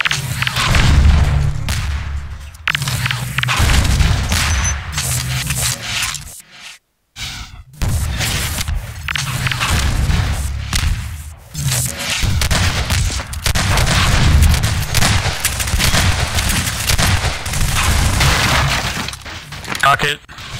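Rocket blasts from RPGs in a Half-Life 2 Deathmatch competitive match, a dense run of loud booming explosions and crackling impacts across the whole stretch, with only a brief gap, layered with constant game noise and players talking over it.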